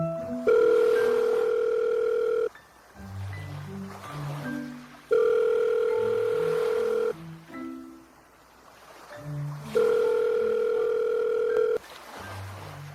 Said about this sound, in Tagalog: Ay, kunin ko lang yung cellphone ko. Tawagan ko siya.